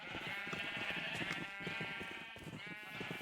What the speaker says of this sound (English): These are the sheep of doom.